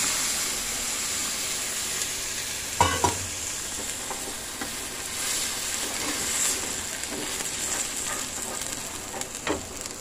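Suji upma with turmeric and milk is stirred in a pan, a continuous close scraping and bubbling sizzle with a few sharper utensil knocks, quiet and steady without voices.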